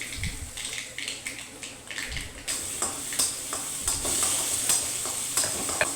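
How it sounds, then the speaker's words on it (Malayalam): Chopped onions sautéing in hot oil with mustard seeds and chilli flakes for a spinach and egg stir-fry, giving a steady close sizzle with scraping and stirring taps throughout, no voices. "ഉള്ളി അരിഞ്ഞ് വെച്ചിരുന്നത് വിട്ട് ഒന്ന് വഴക്കാം"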